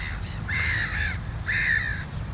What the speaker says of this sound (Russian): Вон, чайки летают.